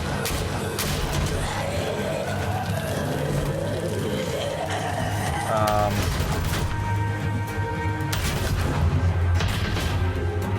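Gunfire and booming impacts from The Walking Dead video game roll through a dense, loud soundscape, with players talking over the steady action.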